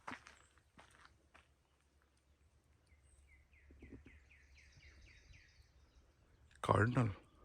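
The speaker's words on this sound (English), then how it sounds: "Cardinal." A cardinal sings a faint, distant run of repeated slurred whistles on a forest trail at Cave Point County Park in Door County, over soft footsteps and clicks, with a short louder burst of noise near the end.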